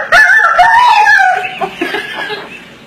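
A voice mimics a rooster's crow as if the rooster is hit by a thrown shoe, starting high and strained, then breaking off into a few choked, sputtering sounds, loud and close.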